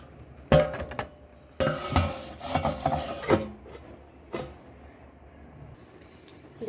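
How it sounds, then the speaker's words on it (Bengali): A lid going onto a cooking pot of spiced chicken, sharp metallic clanks and scraping knocks in two close bursts, followed by a lone later tap and quiet. "এবার আমি ঢাকনা দিয়ে দেব।"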